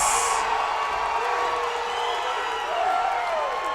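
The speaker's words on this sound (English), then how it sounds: "This crowd is on fire, Kevin." A boxing-match crowd roars and cheers in a steady, dense wash of voices, with a brief sharp shout at the very start and a rising whoop near the end.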